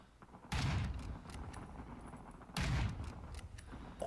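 Gunfire from a first-person shooter with iron sights, two sharp loud bursts about two seconds apart, each with a short rumbling tail, over quiet in-game background sounds.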